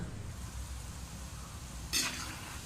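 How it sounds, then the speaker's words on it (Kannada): Guliyo dumplings frying in a pan, a steady low sizzle with faint scraping, then a sharp metallic clink near the end. "ಇವಾಗ ಗುಳಿಯೋವನ್ನು ಫ್ರೈ ಮಾಡೋಣ"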